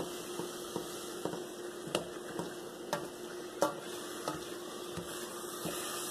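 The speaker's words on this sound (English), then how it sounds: "I just now stirred in the garlic into" Garlic stirred into a pan of softened onion, producing a faint, low sizzle broken by soft, regular taps and scrapes of the utensil against the pan.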